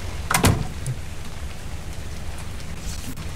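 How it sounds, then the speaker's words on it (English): Rain falls steadily in the video game ARK, a continuous hiss of drops on surfaces with a brief louder knock near the start and no voices. "It's raining again."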